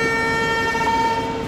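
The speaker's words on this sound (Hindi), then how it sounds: "एक तो यार इतना प्यारा हॉर्न है ना ये वेब 7 का" A WAP 7 electric locomotive horn in Train Simulator sounds a single loud, sustained tonal blast that holds steady for over a second with no talking.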